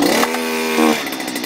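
A Stihl BT 121 earth auger's small two-stroke engine pops and catches after a pull start, giving a loud, rough buzzing burst that dips briefly and surges again before settling.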